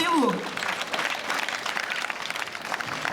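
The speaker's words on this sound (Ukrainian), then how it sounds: "а ви нас зустрінете оплесками" Applause from a crowd at the opening of a folk festival, steady dense clapping that follows a brief voice at the start and continues evenly.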